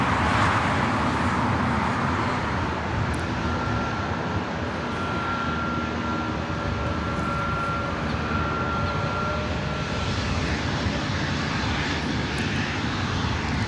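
Airliner jet engines roar steadily at LAX airport as a plane on a JFK–LAX route pushes back, a loud continuous rumble with a faint tonal whine, no voices.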